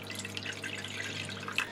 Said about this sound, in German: Und hier gebe ich auch gleich etwas Wasser hinein